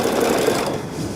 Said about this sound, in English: we'll go ahead and put our foot down on our machine, and then we'll get started